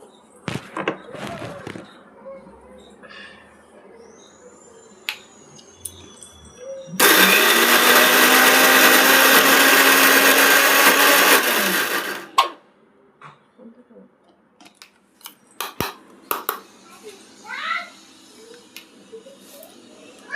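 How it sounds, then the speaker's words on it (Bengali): An electric mixer grinder whirs loudly for about five seconds while grinding yardlong beans into a paste, starting and stopping abruptly, with quieter kitchen clatter and handling noises before and after. "এবার আমি এটা মিক্সি করে নেব"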